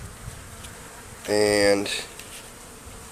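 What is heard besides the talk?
swarm of bees in a tree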